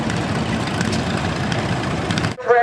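A Ford tractor, the English-built version, runs with a loud, steady engine roar close by at a steam and antique machinery show, cutting off abruptly near the end.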